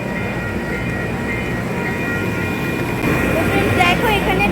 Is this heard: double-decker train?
yes